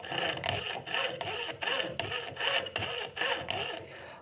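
A hand saw cuts diagonally through a sheet of acrylic, giving about eight steady back-and-forth strokes with a harsh rasping edge, close and loud with brief pauses between strokes and no talk.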